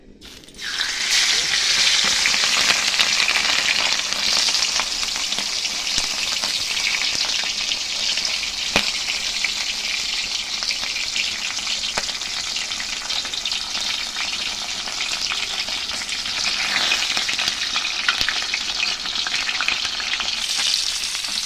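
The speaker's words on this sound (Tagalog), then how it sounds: "Ito na siyang pritohon kay init na ang mantika." Barilison fish frying in hot oil for sweet and sour, a loud continuous crackling sizzle that starts abruptly and holds steady for the whole stretch, close up with no speech.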